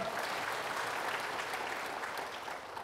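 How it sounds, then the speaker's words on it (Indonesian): A church congregation at a Pentecostal revival service claps together, a steady, even burst of applause that tapers slightly toward the end. "Tepuk tangan."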